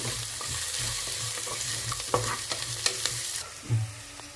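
Curry leaves frying in oil for coconut vegetable pulao, a steady close sizzle with a low bubbling pulse and a few sharp stirring scrapes near the end.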